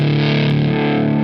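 Lap steel guitar in open D tuning run through a Tungsten treble boost pedal with the volume all the way up, a thick, loud, distorted sustained chord that holds steady, with no voices.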